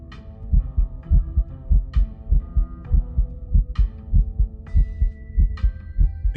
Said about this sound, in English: Thank you for the heartbeats.